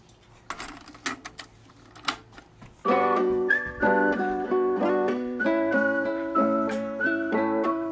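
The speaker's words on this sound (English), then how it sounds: "I love whistling." After a few clinks and taps, a bright melodic whistle enters over the music of a song, carrying a tune in steady, repeated phrases.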